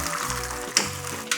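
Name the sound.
milk and semolina mixture poured into caramelized sugar and ghee, sizzling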